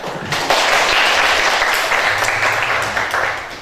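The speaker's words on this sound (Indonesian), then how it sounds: "Bagus ya, tepuk tangan ya." Classroom applause, a burst of clapping from a group of students that runs steadily for several seconds at close range.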